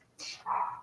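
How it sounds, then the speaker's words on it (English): A dog in the background of a room makes a short, soft whimpering yelp lasting under a second, moderately quiet and heard on its own. "sorry about my dog in the background"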